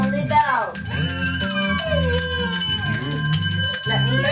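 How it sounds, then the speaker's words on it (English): Children ring bells at a daycare Father's Day performance, a steady bright chiming running beneath singing and music throughout. "Let me hear those bells."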